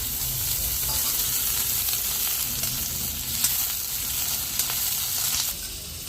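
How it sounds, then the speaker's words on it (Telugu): Chopped onions and tomatoes fry in a little oil for an Andhra-style mutton paya curry, giving a dense, continuous sizzle, close and loud, with a couple of faint stirring taps and no talking. "కొద్దిగా అయితే నూనె వేసుకొని ఇవి వేగినాక టమాటాలు వేసుకున్నాము."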